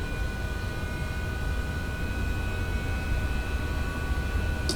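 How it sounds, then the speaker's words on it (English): Loud, steady cockpit drone of a C-160 transport aircraft in Microsoft Flight Simulator 2024, a broad noise with constant electrical tones on top, heard alone while systems are being switched on before engine start. "This plane is very loud."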